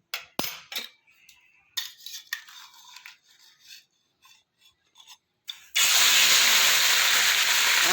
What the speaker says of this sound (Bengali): মাছগুলো আমি এবার ভেজে নেব।